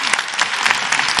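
Audience applause at a talk by a Korean calligrapher, a steady wash of many hands clapping close and loud throughout, with no voices over it.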